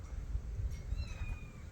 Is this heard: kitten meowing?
yes